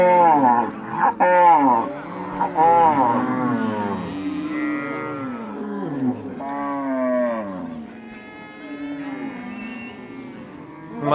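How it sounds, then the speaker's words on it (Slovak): Cattle at a tribal cattle camp low during milking time, several cows giving long, drawn-out moos one after another, close and loud, with overlapping calls and little pause between them. "Ešte dokončujú posledné kúsky dojenia a prvé kravy sa hýbu."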